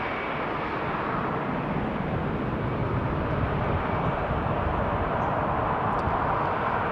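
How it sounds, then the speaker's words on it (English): EasyJet Airbus A319 bound for Krakow at Amsterdam Schiphol Airport, a steady, moderately loud jet engine roar rumbling evenly throughout, with no voices. "Next up, EasyJet to Krakow in Poland. Flight 27975 A319."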